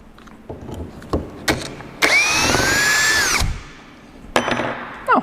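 Högert power screwdriver driving out a screw in a workshop: a loud whining motor burst of about one and a half seconds, with rising and falling pitch, framed by short clicks and tool handling before and after.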